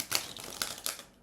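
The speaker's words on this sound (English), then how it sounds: "while I shuffle the tarot ahead of our Celtic cross" Tarot cards being shuffled in a few quick, papery riffles with soft crisp bursts, close and fairly quiet, alone without talk.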